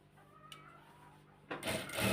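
A sewing machine starts up near the end, a quiet hum and whir of stitching through fabric that builds over the last second after a near-silent room.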